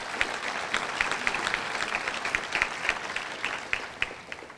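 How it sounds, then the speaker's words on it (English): Audience applause at a school district scholars ceremony, a steady wash of clapping with distinct sharp claps popping out, moderately loud and continuous throughout without talk. "Let's give them a round of applause"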